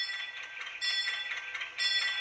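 The bell of a PIKO HO-scale Whitcomb 65-ton model diesel locomotive rings in quick repeated clangs over a steady mechanical hum, loud and close, with no voices.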